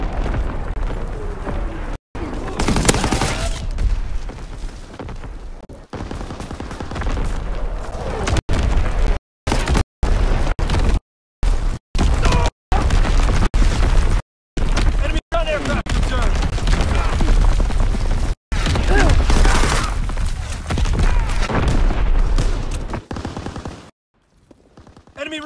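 Enemy artillery and gunfire in Call of Duty: WWII: loud, close, repeated explosive blasts and bursts, the barrage cutting off abruptly several times before resuming.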